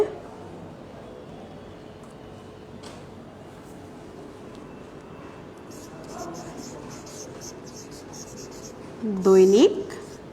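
Chalk or marker writing on a board, heard as faint intermittent scratching strokes under a quiet room tone, with a brief louder burst near the end.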